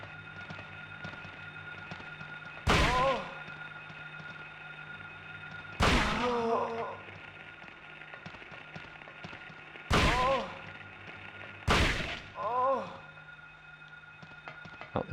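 Shotgun blasts aimed at nurses in Silent Hill (1999), four loud sharp booms spaced a few seconds apart, each followed by a short ringing tail, over a quiet, low ambient hum.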